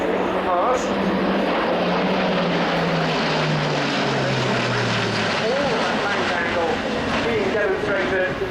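An Airbus A400M turboprop transport makes a high-speed pass at an airshow, a loud continuous propeller drone with a falling pitch sweep as it goes by, heard throughout under a broad roar.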